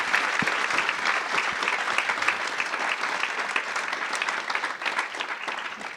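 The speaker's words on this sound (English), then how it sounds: "can we have a round of applause for this amazing panel?" Sustained audience applause after a leadership panel discussion at a civic event, a steady dense wash of many hands clapping with no voices over it, holding at even loudness throughout.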